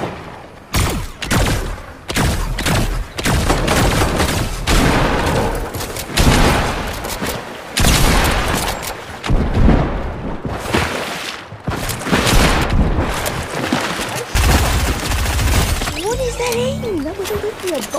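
A pulse rifle fires in a video game, letting off loud repeated bursts of crackling, booming shots with short gaps between volleys, while a voice talks over the action.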